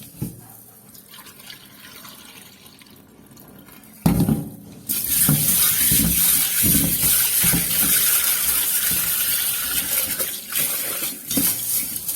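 Tap water running into a vessel while dosa ingredients are washed, starting with a clatter of utensils and then a steady close splashing flow, with soft kitchen clinks throughout.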